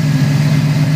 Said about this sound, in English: It's a mighty engine. I'm sure you're getting the sound effects now.